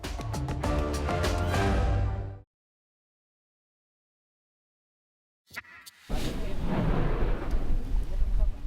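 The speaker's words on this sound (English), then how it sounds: "The region has seen intense explosions and ash falls since February." An eruption at one of Guatemala's most active Central American volcanoes: a loud, deep booming roar swells in after a short silence and rumbles on continuously, following an earlier burst of broadcast sound.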